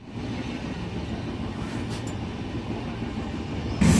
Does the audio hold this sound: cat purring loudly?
no